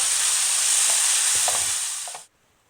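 Ground meat filling for stuffed msemen frying over medium heat in a pan and stirred now and then; a loud, steady close sizzle with a few soft scraping knocks, then it cuts off abruptly near the end.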